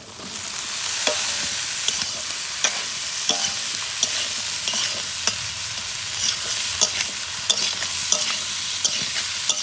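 Cauliflower and potato pieces fry in spiced oil for a samosa filling, a loud steady sizzle broken by repeated sharp spatula scrapes and knocks against the pan, with no talking.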